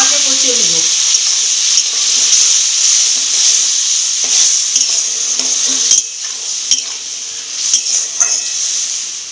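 Spice paste frying with a little water in a pan, a steady loud hiss and sizzle throughout, with occasional scraping knocks of a spoon stirring the mixture close by.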